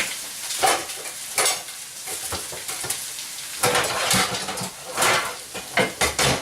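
Eggs dropped into a hot skillet crackle and sizzle in bursts, with a steady frying hiss underneath and occasional light clinks of utensils and a pan lid nearby.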